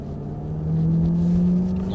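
Aston Martin Vantage S pulling out of the pits at the Circuit de Salon, engine droning steadily at low pitch and swelling a little louder as it gains speed, heard from inside.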